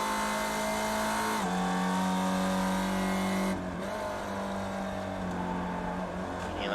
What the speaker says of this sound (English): Hear that tyre squealing.